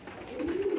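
A pigeon coos close by in a loft of newly acquired birds, one short soft rising-and-falling coo.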